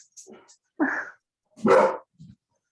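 A pet dog barks indoors during an online class, giving two loud close barks with smaller yips and whimpers around them, spaced irregularly over a quiet background.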